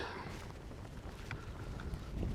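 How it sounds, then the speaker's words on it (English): Wind rushes steadily over open water on a Florida fishing outing, a constant broadband roar and microphone buffeting that grows slightly stronger toward the end, with no voices. "That wind's coming up, making it a little more harder to fish."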